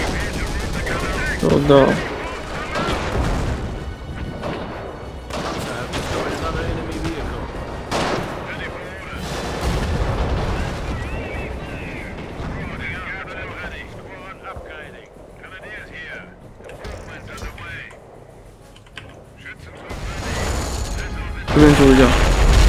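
Machine gun bursts and heavy explosions in the Company of Heroes battle game, dense and loud throughout with rumbling blasts, while someone speaks briefly over the combat.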